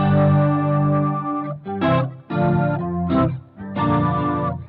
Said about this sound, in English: And then I've got that organ here if I want it.